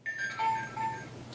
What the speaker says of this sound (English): Why in the world was this generic jingle used instead?